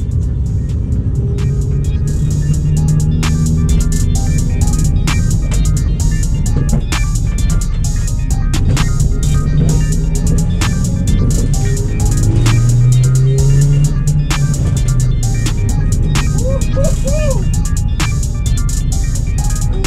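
A car running a 100-shot nitrous kit roars steadily as it accelerates, its engine drone loud and close throughout, with rising and falling tones as it pulls and occasional sharp ticks and clicks over the constant road noise.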